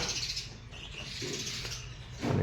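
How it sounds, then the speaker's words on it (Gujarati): Sparrows chirp around a rural Gujarati home, short bright tweets scattered over a low background hum, moderately close and without speech. "અને ચકલા પણ આવી ગયા છે ત્યાંના પોરમાં."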